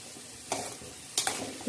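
Wheat-flour modak filled with coconut and poppy seed frying in hot oil, a low steady sizzle broken by a few brief scraping stirs of a spoon in the pan, close and fairly quiet.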